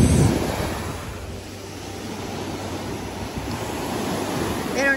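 Choppy morning sea with waves surging and breaking continuously, a broad, rushing wash of surf with some wind, close and fairly loud.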